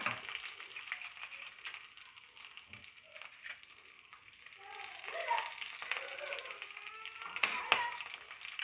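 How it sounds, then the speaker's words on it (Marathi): Garlic and slit green chilies fry in a pan for curd curry, giving a soft, fairly faint crackling sizzle that swells and fades with occasional light popping over the eight seconds. "मिरच्या थोड्याशा फ्राय झाल्या"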